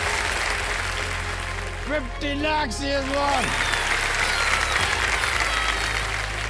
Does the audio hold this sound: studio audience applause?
yes